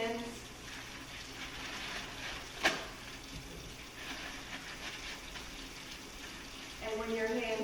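Water runs from a kitchen tap in a steady, soft hiss while hands are rinsed, with a brief sharp knock partway through and the flow growing slightly louder near the end.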